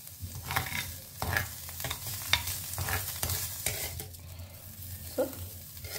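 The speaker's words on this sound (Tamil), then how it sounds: "இதே இதில் கொஞ்சோண்டு உருளைக்கிழங்கு, கேப்சிகம், வெங்காயம் போட்டு வதக்கிக்கலாம்" Potato, capsicum and onion sauté in a stone pot (kal chatti), with a continuous close sizzle and repeated scraping, clattering stirs throughout.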